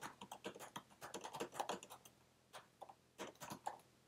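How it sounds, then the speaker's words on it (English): Typing on the keyboard of a 15-inch Late 2016 MacBook Pro running Windows 10, a quiet flurry of close, light key clicks in quick irregular bursts, with a brief lull before a few more taps. "I'm not typing very well on this keyboard right now because it's at a funny angle"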